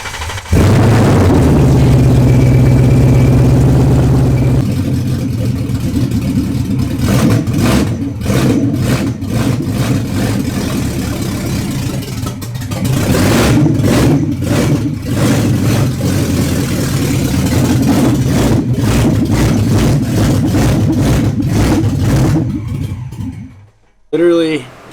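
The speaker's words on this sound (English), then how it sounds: "Just clutch in and press the ignition." Ford Mustang GT with header dumps and a Camaro resonator fitted to the exhaust, started in the early morning hours and revving loudly up close before settling into a rough, rumbling idle, with voices talking over parts of it.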